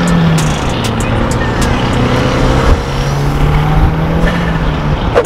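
A car cruises along the road with a steady, close engine and road rumble, faint clicks and short tonal whines rising over the continuous drone, and no talking.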